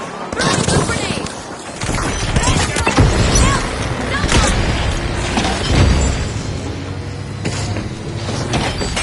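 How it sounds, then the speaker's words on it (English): Grenades go off in the shooter game The Finals, repeated booms and bursts among gunfire and mechanical clatter, loud and dense throughout with voices mixed in. "Throwing some grenades."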